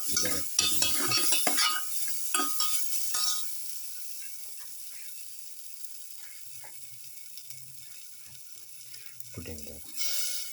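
Chili is stirred in a frying pan, a cluster of scraping, clattering utensil strokes and soft sizzle early on, fading to a quiet hiss with occasional stirring before a final burst of scraping.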